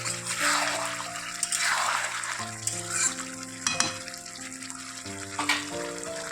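Meat and potatoes fry in a pan while being stirred, a close sizzle broken by scraping stirs and clinks, with background music-like tones underneath and no speech.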